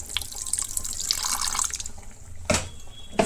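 Water poured into ground poppy seeds to make a paste, heard as a close trickling splash that fades, followed by two short sharp knocks, no talk.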